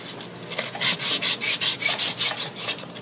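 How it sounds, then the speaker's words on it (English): Sandpaper rubs back and forth on a metal air-conditioning pipe in quick, regular strokes, about a dozen rhythmic scrapes, close and fairly loud. "and just give it a good sanding"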